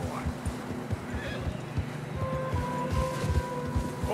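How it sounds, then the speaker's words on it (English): Horses whinny and neigh loudly over plodding hoofbeats through fresh snow and a soft rush of wind, in the video game Red Dead Redemption 2. "Horses are struggling."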